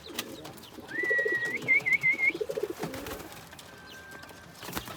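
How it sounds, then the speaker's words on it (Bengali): Rajgola pigeons cooing close by: several soft, rounded, pulsing coos in quick succession, with a thin high whistle-like tone over part of it and quieter coos after. "খুবই সুন্দর আমার প্রিয় রাজগোল্লা কবুতর।"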